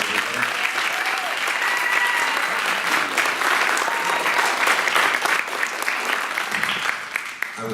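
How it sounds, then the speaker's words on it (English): An audience at a school senior play performance of Romeo and Juliet gives a sustained, dense round of applause, steady and loud throughout without a break. "So if the seniors could give the underclassmen a round of applause."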